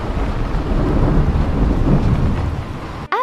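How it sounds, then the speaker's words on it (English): Rain and thunder from a storm in the video game Skyrim with the True Storms mod: a loud, steady rumbling roar of rain and low thunder, ending abruptly with a brief different sound. "you can even hear the rain and thunder from inside certain buildings"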